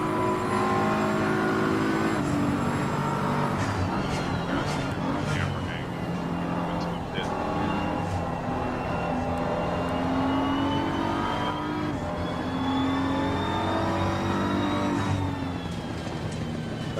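BMW M4, a front-engined car, accelerating hard on a drive, its engine droning and climbing through gears loudly, with talk over it.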